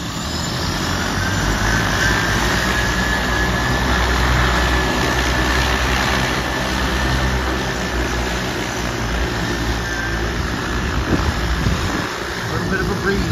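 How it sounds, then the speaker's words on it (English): A flying vehicle's engine runs steadily while it taxis low to the ground in a light breeze. The drone is continuous and fairly loud, and wind buffets the microphone. "Listen to that engine."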